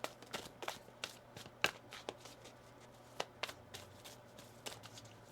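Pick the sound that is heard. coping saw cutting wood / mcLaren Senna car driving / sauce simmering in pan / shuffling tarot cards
shuffling tarot cards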